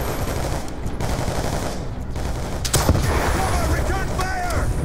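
Sustained gunfire and explosions from the Call of Duty: Black Ops 2 campaign mission Cordis Die form a dense, continuous battle roar, with a sharp louder burst midway and crackling shots layered under game voices.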